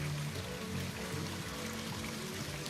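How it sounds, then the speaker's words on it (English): Waterfall and flowing water, a steady broad rushing wash under low background music, constant and fairly faint throughout, with no talk. "Waterfalls."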